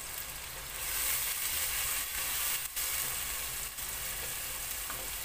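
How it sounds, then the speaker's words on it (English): Curry and paprika sizzling in a pan with green bananas for matoke, a steady, quiet frying hiss with faint stirring scrapes. "Then add the curry and finally the paprika."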